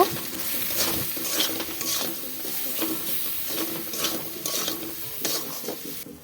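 A spoon stirs egg masala curry with spices, salt and turmeric in a pan, making repeated scraping and scratching strokes over a soft sizzle, close and steady with no talking.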